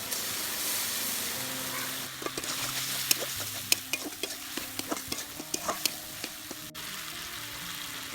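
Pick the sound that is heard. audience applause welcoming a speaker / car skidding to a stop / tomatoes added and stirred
tomatoes added and stirred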